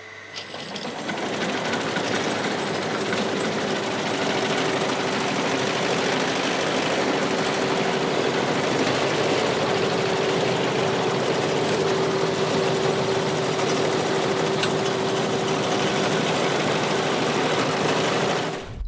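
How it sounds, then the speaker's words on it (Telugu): A sewing machine stitching a latex mattress cover runs in one continuous, steady mechanical whir with a fine rapid rhythm and a humming motor tone, close and loud from start to finish. "ఇది స్టిచ్చింగ్ ఎట్లా వస్తుందని చూపిస్తాం"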